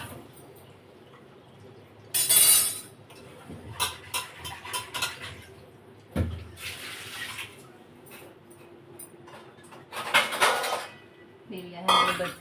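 Metal utensils, pots and cutlery clattering in a home kitchen during a hunt for a knife, in several sharp bursts of clinking with quieter handling and running water between them.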